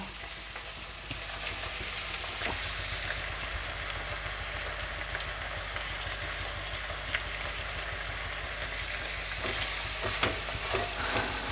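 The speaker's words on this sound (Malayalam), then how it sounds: "പിന്നെ നമുക്ക് പച്ചമുളക് ഇപ്പോൾ 2 എണ്ണം നമ്മൾ നടുക്ക് കീറിയിട്ടൊന്ന് ഇട്ട് കൊടുക്കുന്നുണ്ട് കേട്ടോ" Curry leaves and two slit green chillies frying in hot oil for a Kerala-style egg curry, a continuous even sizzle with faint scattered pops and stirring clicks, no talking.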